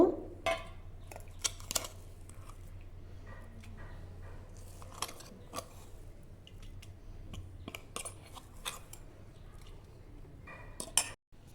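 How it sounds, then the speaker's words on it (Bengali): Freshly ground dondokolosh leaf paste is tipped and scraped out into a dish, making faint, scattered clinks and scrapes of a utensil against metal and crockery, with a quiet low hum underneath. "তো এটা আমি এখানে ঢেলে নেব।"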